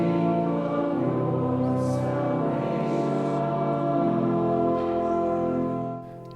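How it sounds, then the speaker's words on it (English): Sustained pipe organ chords swell and resonate through a large reverberant church, deep tones holding steadily before fading at the end. "You hear this organ, it seems to come from the very walls of the church"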